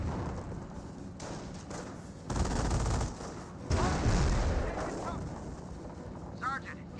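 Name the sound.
machine gun fire from the video game Company of Heroes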